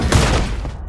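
Gunfire from bandits in a vehicle combat video game, heard as a short, loud burst with a sharp onset and a booming low end that rings on briefly.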